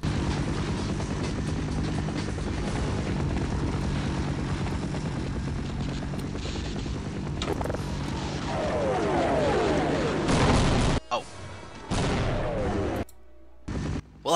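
Airstrike explosions and gunfire in the video game Half-Life, a dense loud roar of blasts and rattling shots with a helicopter-like drone, ending in abrupt bursts and sudden cutoffs.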